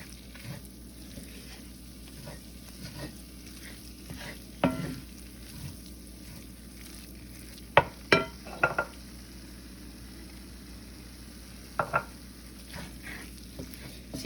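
Flour cooking in fat for biscuits-and-gravy roux: a faint, steady sizzle with soft stirring scrapes and a few sharper utensil knocks against the pan, fairly quiet and without talk.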